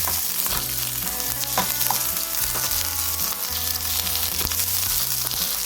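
Onions fry in a pan for pork chops, a continuous close sizzle with stirring scrapes running throughout, no voices.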